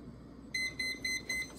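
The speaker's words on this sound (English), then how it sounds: "So it beeps when it's done." A Presto Flipside waffle maker's timer beeps when done, giving four short, evenly spaced electronic tones, clear and alone over faint background hum.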